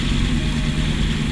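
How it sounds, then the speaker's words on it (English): A homebuilt custom motorbike powered by a Chevy V8 with an automatic gearbox idles along at low revs, giving a steady, deep, close rumble with no voices. "I'm sort of idling along at the moment."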